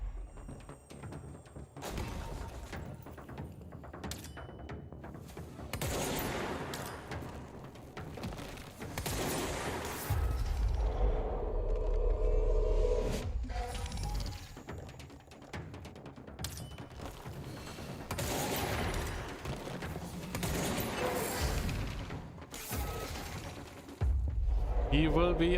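Gunfire in the video game Control during a boss fight, repeated volleys of shots with heavy thumps and booms, loud and dense, with people talking over much of it.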